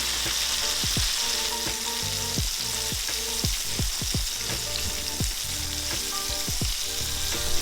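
A flour-coated ribeye steak sears in hot frying oil, giving a steady loud sizzle with scattered popping crackles and occasional clinks close by.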